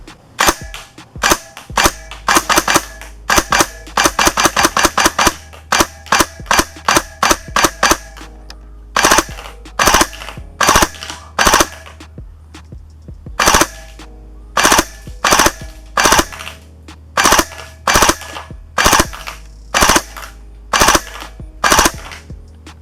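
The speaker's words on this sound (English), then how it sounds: "So let's go ahead and put some BBs down range." An airsoft gun fires BBs downrange in quick bursts and single shots, sharp loud cracks in rapid strings separated by brief pauses, with a low hum underneath.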